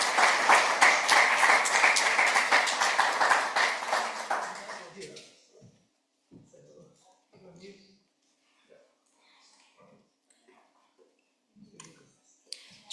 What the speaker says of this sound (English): we can give them all a big round of applause as well